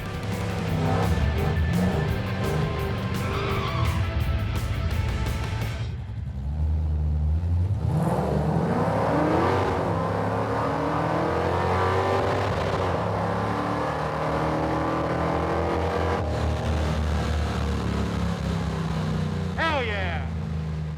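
A Monte Carlo drag race car makes a full-throttle run, its engine roaring loudly and steadily for about twenty seconds with rising pitch sweeps as it accelerates down the strip, with people talking over parts of it.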